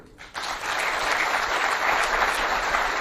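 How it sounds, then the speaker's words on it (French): An audience applauds after speeches at a youth diploma ceremony in the DRC, a dense, steady wash of clapping that swells in after a brief quiet start and holds loud to the end. "Après ces discours très applaudis par l'auditoire"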